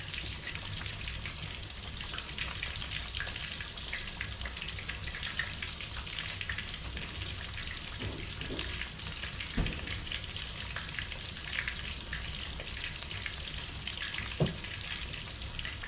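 Chicken frying in a cast iron pan, a steady bright sizzle and crackle of hot oil lasting throughout, with a few soft clicks of tongs turning pieces.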